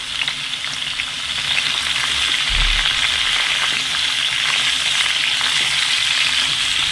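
Raw mango pieces with a pinch of salt and turmeric powder fry in a pan, giving a steady, loud sizzle with soft stirring scrapes throughout and no voices.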